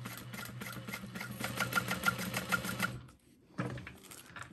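A sewing machine runs steadily, basting long stitches on a small fabric wristlet, with a fast regular needle rhythm close by. It stops abruptly, pauses briefly, then starts again.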